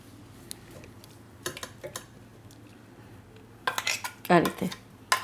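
Ground fennel seeds scraped out of a grinder jar into a container, heard as a few scattered metallic scrapes and taps that build into a louder cluster of clinks and scraping near the end, close by with no talking.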